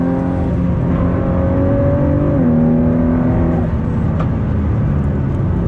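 Exhaust note of a Ford GT sports car heard from inside while driving, a loud steady engine drone with shifting pitch as the throttle is eased off, giving a rumbling, burbling overrun.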